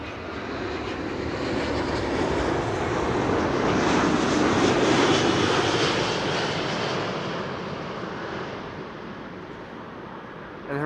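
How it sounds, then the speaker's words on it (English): An Airbus A340 airliner taxis at Amsterdam Schiphol Airport, its engines a steady broadband roar that swells to a peak midway and then eases slightly, continuous and fairly close with no talk. "Wolfgang says that the A340 is on its way to the Polderbaan."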